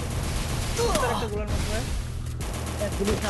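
Rapid gunfire from the Free Fire battle royale game on a desert map, fights outside the zone, bursts crackling continuously through the clip, loud and close, mixed with game effects and a voice talking in the background.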